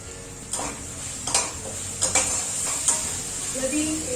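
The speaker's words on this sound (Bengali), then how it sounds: "আমার এটা আঁচ কম করে এটা আস্তে আস্তে কষাতে থাকছি।" Spices with half a teaspoon of turmeric being stirred over low heat in a pan for masoor dal with fish head, giving a soft sizzle with several distinct scrapes and clinks of a spoon against the metal pan.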